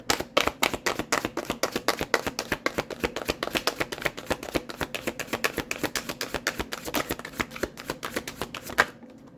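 A deck of tarot cards being shuffled, a rapid steady flutter of riffling cards close up, continuous for about nine seconds and nearly alone.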